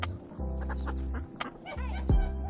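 Chickens on a farm, including a rooster and a hen that were just fighting, cluck and squawk up close in a quick series of short, loud calls, with no talking.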